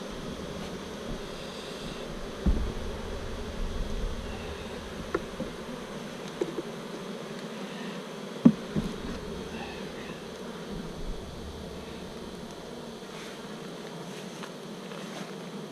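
Honey bees buzz around a brood frame with eggs being worked at a hive in intense heat, a faint continuous hum broken by a few soft knocks and handling thumps.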